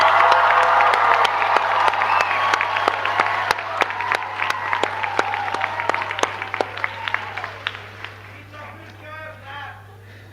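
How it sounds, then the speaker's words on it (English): Loud cheering and applause from a graduation ceremony crowd, whoops and sharp claps over a steady hum, thinning into scattered claps near the end with voices talking. "Huge cheer and a round of applause."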